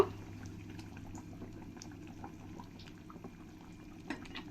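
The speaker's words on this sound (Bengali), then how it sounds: "এই মাছগুলো দিয়ে দেব দিয়ে ভালো করে একবার নাড়িয়ে দেব" Katla fish curry, with fried fish just added, simmers quietly in a pot, giving a faint, steady bubbling with light scattered clicks as it is stirred.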